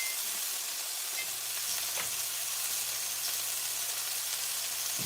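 Burgers sizzle steadily in a frying pan, a continuous close hiss and crackle with a low hum beneath, no voices.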